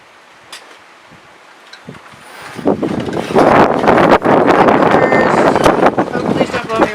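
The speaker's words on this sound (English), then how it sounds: "Oh, please don't blow me away. Big wind." Strong gusting wind outdoors during an acrylic paint pouring session, starting calm and then swelling after a couple of seconds into loud, steady buffeting roar across the microphone.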